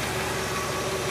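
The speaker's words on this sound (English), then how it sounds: "It's idling fine." A 1963 Chevrolet Impala SS engine, fed from a temporary auxiliary tank through a small electric fuel pump, idles steadily with a low, even rumble throughout, close and continuous, with no talking.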